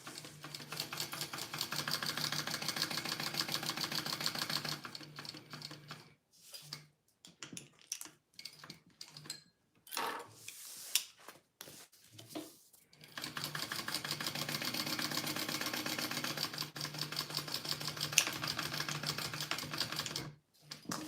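A sewing machine stitches down the center divider of a bowler bag, running in two long steady whirring passes separated by a break of short stops, clicks and handling, close and without talk.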